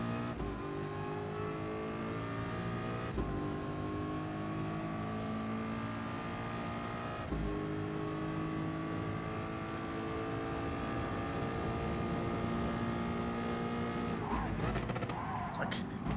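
Race car engine in GT Sport at Monza, droning steadily and revving up through rising gear pulls with brief shifts in between, with a voice talking over it.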